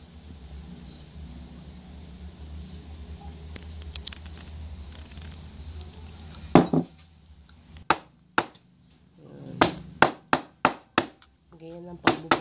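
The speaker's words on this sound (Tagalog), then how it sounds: "Ganyan ang pagbubukas ng clamshell." Clamshells being opened for a buko (young coconut) and clam dish, heard as a series of sharp, close cracks and snaps, first sparse then in a quick irregular cluster, over a quiet background.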